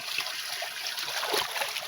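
Steady, continuous trickling and burbling of cold spring water flowing, close by, with no break in the gentle rushing sound.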